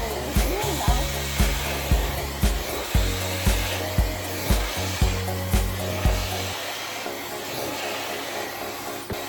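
A blow dryer runs steadily while a brush is worked through hair, with a repeating rhythm of soft strokes and thumps over the hum; no one talks.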